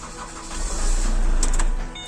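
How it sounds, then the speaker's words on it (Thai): A Chevrolet Captiva C100 engine cranks and catches during a power steering fluid change, runs briefly, then is switched off with the key, all within about two seconds and heard up close. "สตาร์ทติดปุ๊บ แล้วก็บิดกุญแจปิดเลยนะครับ"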